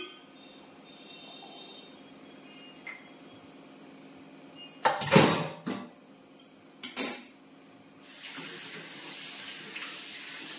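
Tap water briefly gushes in two short loud bursts, then runs in a softer steady stream into a vessel for soaking, close by over a quiet room hum with a faint clink.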